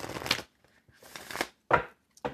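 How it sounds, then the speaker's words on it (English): A deck of tarot cards being shuffled close up, several quick riffling bursts separated by short silences. "One more shuffle, and then we cut."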